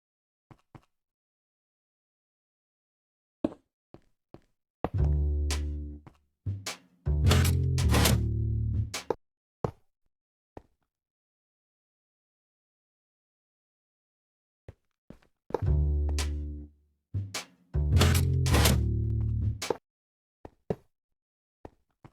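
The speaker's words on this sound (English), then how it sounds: "we will add the sound effect of a piston contracting" A Minecraft piston contracting sound effect repeats in two matching groups, each a short series of sharp mechanical clunks and bursts set between long stretches of silence.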